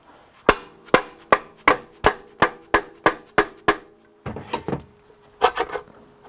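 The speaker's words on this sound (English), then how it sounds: "I'm actually going to whack it with this dead blow hammer." A dead blow hammer strikes an aluminum throttle body on a Honda Accord 2.4L, with wood placed between them: about ten sharp, evenly spaced knocks, then a short burst of rattling and scraping and a few more knocks.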